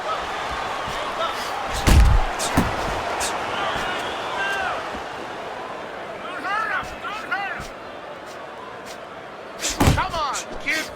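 Punches landing in the Fight Night Champion boxing video game, a few heavy thuds spaced apart over a crowd murmur, with commentary voices in between.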